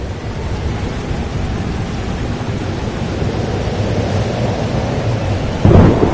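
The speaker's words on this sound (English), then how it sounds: "It's here too. But there wasn't a storm the day Safi died." A thunderstorm in Life is Strange: Double Exposure brings steady heavy rain and a continuous rumbling roar, loud and unbroken, with a slight swell near the end and no voices.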